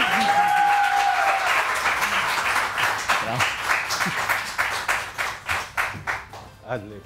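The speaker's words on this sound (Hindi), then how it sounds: "तो ईसा भाई को हम जोरदार तालियों से वेलकम करेंगे।" A studio audience on a morning television show applauds to welcome a guest, the clapping loud at first and thinning into scattered, separate claps near the end, with a voice speaking briefly at the start.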